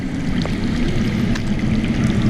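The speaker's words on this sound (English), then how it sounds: "I hear water. From underground." Water flowing underground in a Game of Thrones video game, a steady, low rushing stream with faint drips and trickles, continuous and even throughout, with no talking.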